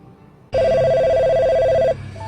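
A telephone rings in a single loud, sustained electronic trill that starts abruptly and cuts off after about a second and a half, set against a quiet room.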